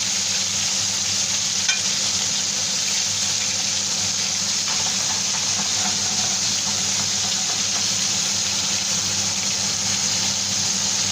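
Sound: anchovies frying in a pan

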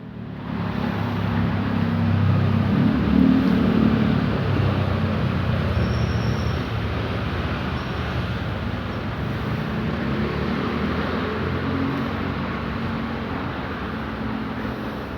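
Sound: Thai diesel train accelerating at Sam Sen station

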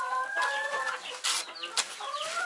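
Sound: chickens and rooster clucking

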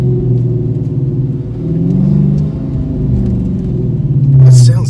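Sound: Dodge Demon engine revving with Pedal Commander

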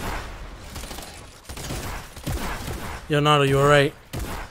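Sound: gunfire in Fortnite video game

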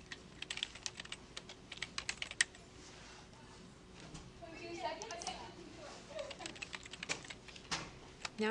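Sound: typing citations on a computer keyboard

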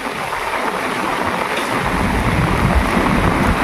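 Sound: heavy rain falling

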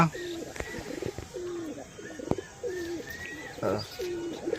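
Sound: pet pigeons cooing

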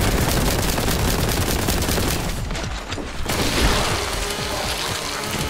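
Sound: plasma gun firing in video game Warhammer 40K: Boltgun

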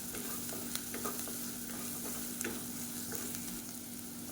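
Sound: potatoes frying in a pan

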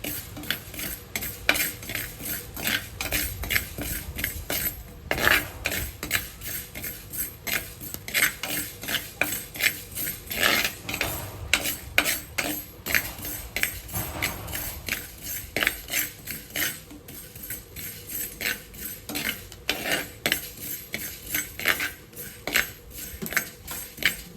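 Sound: fenugreek being dry-roasted and stirred in a pan

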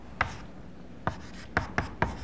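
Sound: writing on a board during a lecture

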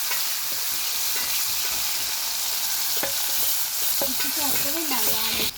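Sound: onions frying in oil left from frying prawns

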